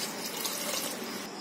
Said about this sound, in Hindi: तो 1 गिलास के करीब हम पानी डाल देते हैं इसमें।